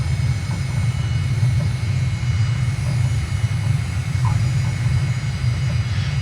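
An airliner in Microsoft Flight Simulator rolling on the runway as it touches down, with a steady droning engine hum and low rumble that stay constant and close throughout.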